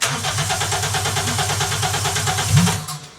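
A Toyota Celica GT-S engine runs on open headers, loud and close, with a rapid, even pulsing exhaust rumble. It roughens briefly near the end and then cuts off abruptly.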